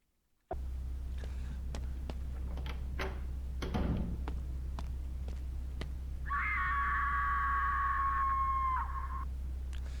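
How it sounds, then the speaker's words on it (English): A distant, wavering scream rings out from the basement in the horror video game The House, sustained for a few seconds over a low droning hum and scattered ticks and knocks. "Sounds like someone's screaming in the basement"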